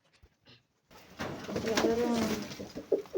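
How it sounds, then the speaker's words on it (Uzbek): Pigeons cooing from a pigeon loft, steady low throaty coos swelling and repeating close by after a brief quiet start, with faint background chatter. "Kaptar uchatadi."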